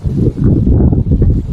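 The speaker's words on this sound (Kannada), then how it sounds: "ತುಂಬಾ ಜೋರಾಗಿ ಗಾಳಿ ಬರ್ತಾ ಇದೆ" Strong wind buffets across an open fenced farm property near Mysuru, a loud, gusty low roar close to the microphone with no other sounds standing out.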